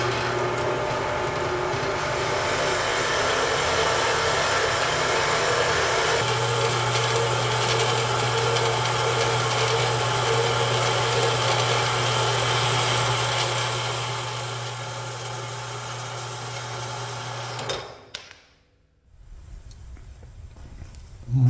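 A loud, steady power saw grinds through metal pipe, cutting short 1.5-inch pieces, for several seconds, its tone shifting midway, before winding down and stopping.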